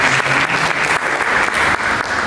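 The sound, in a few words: applause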